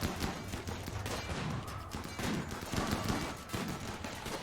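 Dense, chaotic volleys of gunfire aimed at turrets in the video game Rimworld, layered overlapping shots crackling continuously at fairly constant loudness with no break and no speech.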